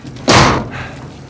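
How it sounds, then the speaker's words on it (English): Gear tossed down in Uncharted 4, landing as a single loud, close thud with a short rumbling decay afterward. "Toss down your gear."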